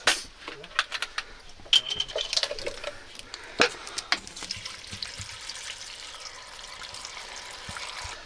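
Water is poured into a cooking pot over trimmed green beans, giving splashy trickling with small clinks and drips while a person talks.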